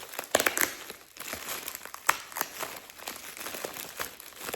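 Paper packaging crinkles and rustles close up as it is unwrapped, a run of irregular crisp crackles and soft crunches at moderate volume, with no voices over it.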